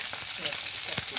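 Bhetki fish frying in hot oil gives a steady, close, crackling sizzle with a brief sharper pop, and no voices.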